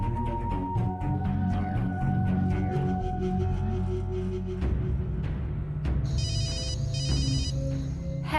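Telephone ringing during a call home, repeated electronic ring bursts over a dense dramatic music bed, fairly loud and steady, with no talking.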